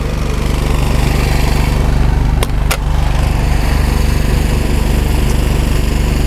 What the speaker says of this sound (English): I don't have to scream and yell even though the generator's running